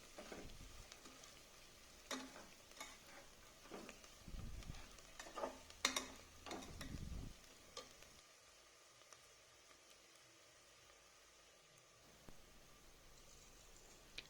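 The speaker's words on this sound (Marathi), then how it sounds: "हळद हे टाकून आता पुन्हा छान परतून घेणार." Turmeric and spices are being sautéed in a pan for masala khichdi. A soft sizzle runs beneath a few scraping stirs and clinks from a spoon, close but faint, and then the sizzle settles into a quiet hiss. Nobody speaks.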